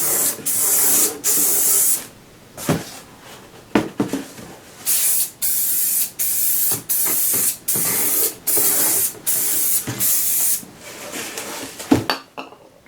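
Aerosol spray paint applied in a coat to a license plate, a series of loud hissing bursts, each about a second long, separated by short pauses and a few clicks.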